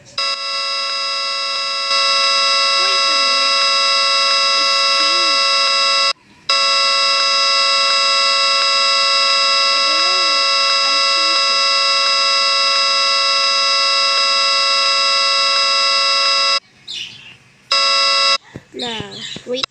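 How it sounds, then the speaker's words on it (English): A small electronic mini siren horn plays a repeating tune, a loud sustained electronic tone running almost continuously with brief breaks near the end, and a voice speaks faintly over it. "This is the same music on the horn."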